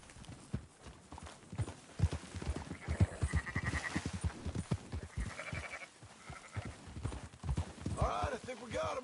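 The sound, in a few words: sheep herd and horses in Red Dead Redemption 2 video game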